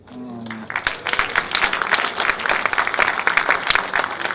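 Audience applause fills the room after a film festival screening of Match, a dense, steady wash of many hands clapping at full strength, with a brief voice just at the start.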